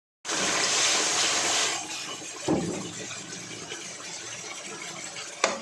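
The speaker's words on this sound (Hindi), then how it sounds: "और फिर हम इसमें डाल देंगे पानी" Water poured from a glass into a pot of fish curry with yogurt in a home kitchen, a loud splashing gush for about a second and a half, then a quieter bubbling simmer with a soft clunk near the end.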